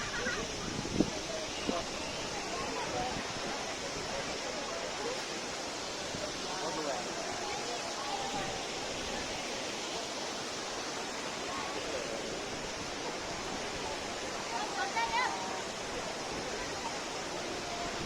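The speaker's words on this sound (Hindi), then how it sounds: "तो फाइनली कहीं हम लोग पहुँच गए वाटरफॉल।" Broad, steady rushing of a waterfall in Nepal fills the scene at a constant level, with a few faint background voices and brief knocks near the start.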